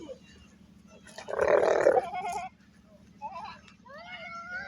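A sheep gives one loud, wavering bleat close by, with people chatting before and after it.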